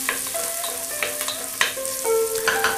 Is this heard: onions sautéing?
yes